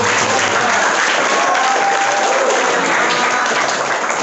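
Loud, dense audience applause fills a podcast session with alumni, continuous clapping from a crowd holding steady for the whole stretch, no voices heard.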